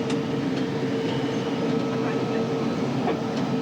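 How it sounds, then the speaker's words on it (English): A metro train rolls along the track in a constant, loud rumble as it pulls up toward a station on the run from Largo to Addison Road, with faint clicks from the wheels. "I got to pull the train up"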